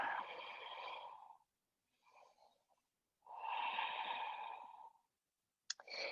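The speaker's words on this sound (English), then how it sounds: "And we'll breathe." Slow, audible breaths during an intermediate yoga flow with props, two long exhales at moderate loudness separated by quiet pauses and a softer breath between, then another breath starting at the end.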